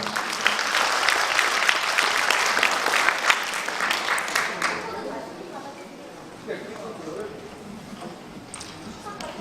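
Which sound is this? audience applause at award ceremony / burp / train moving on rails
audience applause at award ceremony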